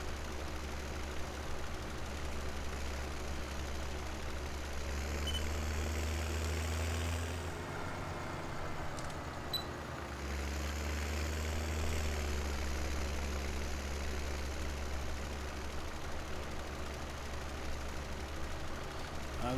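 A small tractor idles steadily in a farming video game, its low engine drone constant throughout with a brief dip partway, heard alone.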